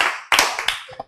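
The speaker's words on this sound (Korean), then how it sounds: "박수도 크게" A small audience at a Bible lecture claps loudly, a sudden burst of hand claps after a brief moment of talk, with sharp claps close together that trail off quickly.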